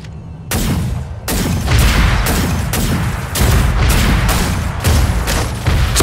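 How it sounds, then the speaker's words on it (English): Heavy, booming gunfire from the video game Super Mecha Champions, a rapid series of loud shots pounding at a steady rhythm, with no pauses and no talk. "Shots heard!"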